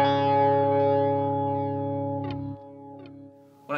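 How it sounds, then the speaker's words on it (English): An Expanse Echelon echo pedal set to stereo ping-pong digital delay, sustaining a distorted guitar chord whose repeats shimmer and bounce, followed by a few picked note attacks echoing out, loud and close. "it sets the ping pong of the golden ratio echo"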